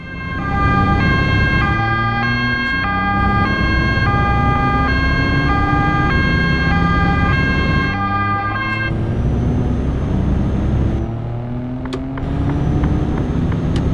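Police car siren in the Euro Truck Simulator 2 video game: a loud, close, two-tone wail that repeats steadily for most of the clip over a deep engine drone, then cuts out near the end.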